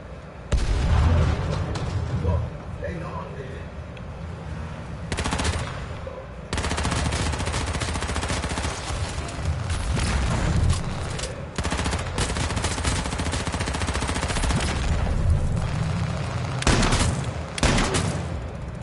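Shotgun fire in a video game: loud, close blasts in dense rapid bursts for most of the stretch, with a few brief pauses and almost no talk.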